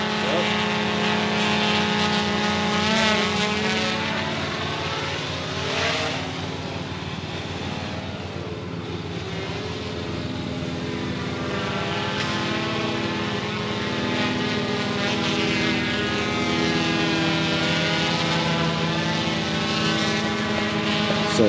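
A GoPro Karma drone in flight gives a steady, loud propeller whir and buzz with shifting tonal whine, continuous throughout at close range.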